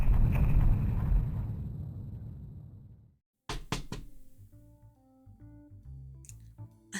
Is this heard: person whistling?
no